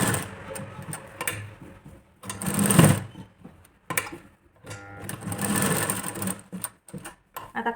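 A sewing machine runs in bursts while stitching the V-shaped hook-strip section on the front of a katori blouse, its motor whirring through several start-stop runs with short pauses between them, close and alone.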